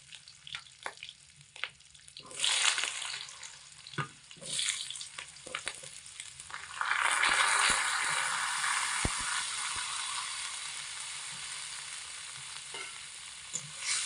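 Washed pumpkin pieces dropped into hot oil in a pan, quiet clatters and scrapes at first, then a loud continuous sizzle that settles into steady frying with occasional stirring.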